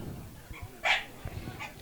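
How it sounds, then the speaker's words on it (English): A dog at a Leamington versus Slough Town football match gives a short sharp bark, then a fainter yip, heard over the muffled crowd and background noise of the ground. "someone's got a noisy dog that they bring to the football"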